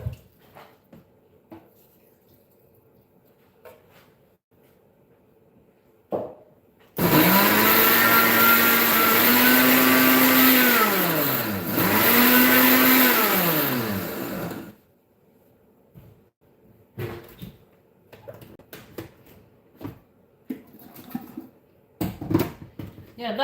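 A blender whirs loudly through a batch of chili con carne ingredients with added water for about eight seconds, its motor pitch dipping and rising as the blade catches the thick mixture, followed by quieter kitchen clatter and some talk.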